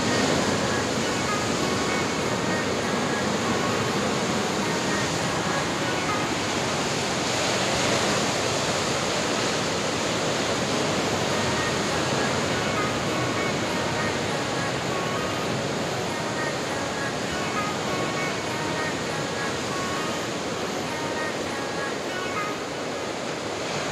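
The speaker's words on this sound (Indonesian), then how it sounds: "ini ombaknya gede banget ya. Tuh, gulungan ombaknya udah gede sampai muncrat gitu ya ke batunya." Large ocean waves crash and splash against rocks below tall cliffs at Pangasan Beach in Pacitan, where the shore is pebbly. A continuous, loud roar of surf is heard without talking.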